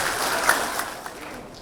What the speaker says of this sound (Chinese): 让我们大家用最热烈的掌声欢迎堪布